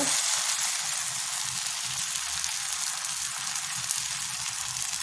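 Curd dosa batter hisses on a hot pan in a steady, even sizzle that holds loud and unbroken throughout.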